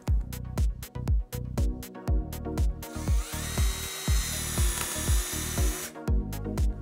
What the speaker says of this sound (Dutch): Deze schroef heeft onderaan de punt een snijkerf die ervoor zorgt dat hij een stukje materiaal meeneemt, waardoor die volboort.